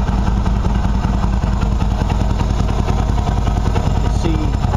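A Qlink QBK 250 twin-cylinder motorcycle engine idles steadily while warming up after sitting, a loud, close, even chugging with light mechanical clatter throughout.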